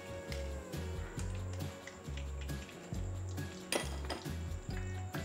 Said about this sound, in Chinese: 把天贝都炸至金黄色之后呢，就捞起来